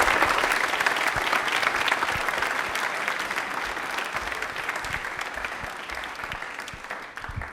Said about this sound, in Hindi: तालियां गौरव के लिए, गौरव वाली होनी चाहिए।